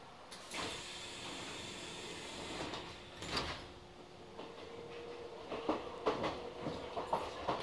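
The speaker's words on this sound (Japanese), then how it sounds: "扉が閉まります。" Kintetsu Gose Line local train doors slide shut with a few clunks and thumps over a steady rumble of the carriage interior, with faint rattling afterward.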